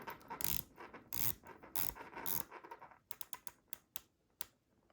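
A Vaer D4 Meridian watch bezel turning in crisp, positive clicks: a few louder handling rasps come first, then a run of separate, evenly spaced ratchet ticks up close in quiet surroundings.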